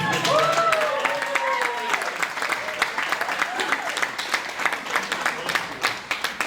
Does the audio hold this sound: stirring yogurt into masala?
no